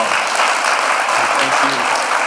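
An audience claps for Congressman Earl Blumenauer at Gresham's 2024 State of the City Address, a dense, steady round of applause filling the hall without pause.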